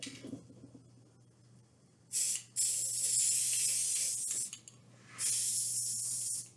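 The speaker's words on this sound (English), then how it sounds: "I'm just going to start painting" Spray paint hissing from an aerosol can onto a glass bottle for a homemade vase: a short burst, a brief pause, a long steady spray, then another sustained burst, close and loud.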